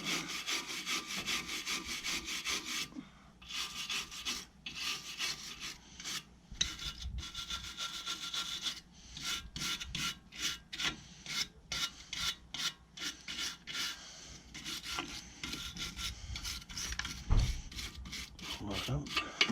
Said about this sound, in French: Un petit coup de brosse au niveau des emplacements d'étrier et des plaquettes